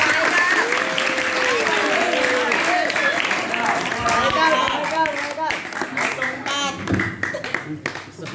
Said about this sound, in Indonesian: Tepuk tangannya, kasih semangat.